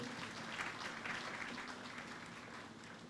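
Faint, distant applause from an audience welcoming guests at a corporate event, a steady wash of clapping at low level with no talk over it.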